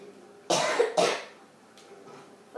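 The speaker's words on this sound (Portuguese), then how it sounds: "Eu tô tossindo" A man coughs twice in quick succession, close and fairly loud, followed by quiet room background and a faint breath.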